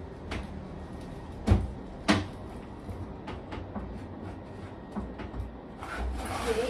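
A drawer being pushed shut, giving two sharp knocks close by, followed by a few lighter clicks and soft shuffling in a quiet indoor room.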